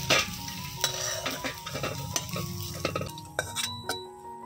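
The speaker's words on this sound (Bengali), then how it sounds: "একইভাবে সেদ্ধ করা আলুটা ভেজে নেব।" Boiled potatoes frying in a pan, a constant sizzle broken by repeated clinks and scrapes of a spatula or spoon stirring against the metal.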